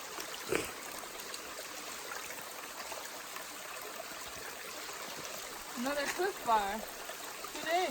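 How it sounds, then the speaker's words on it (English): Water streams and trickles steadily down a steep mountain hiking trail in the White Mountains of New Hampshire, a continuous broadband rush close by, with a brief voice and some breathy sounds near the end. "The trail is a waterfall."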